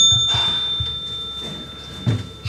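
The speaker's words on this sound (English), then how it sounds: "He's about to ring that little bell." A small bell rung to open a speed dating event: a bright, sustained ring with a clear steady tone that carries across the whole clip, with faint room sounds and brief soft voices beneath it.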